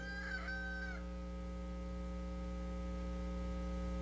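A rooster crows once in the distance, a faint drawn-out cock-a-doodle-doo lasting about a second, set over a steady electrical mains hum that continues alone afterward.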